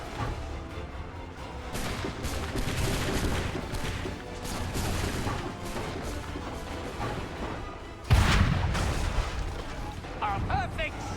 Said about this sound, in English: I love using the cannon.